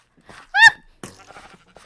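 A single loud, quavering bleat from a sheep in the Minecraft video game rings out at close range, framed by brief bits of a voice.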